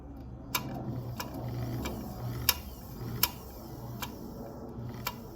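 An ALPS rod wrapping machine's motor drive runs quietly with a steady low mechanical hum, punctuated by a handful of faint, evenly spaced ticks and clicks.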